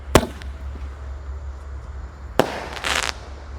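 A blue Bima Sakti 3 firework is lit outdoors and gives a sharp crack, a second loud bang a couple of seconds later, and then a short hissing burst.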